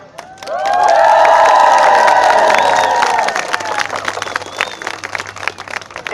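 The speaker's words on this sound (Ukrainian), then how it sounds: "давайте подякуємо їм такими справді бурхливими, гучними оплесками" Loud, sustained applause and cheering from a crowd of pilgrims at a parish gathering, with a swelling roar of voices and shouts over dense clapping that eases slightly after a few seconds but keeps going.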